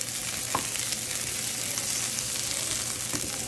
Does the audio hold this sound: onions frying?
yes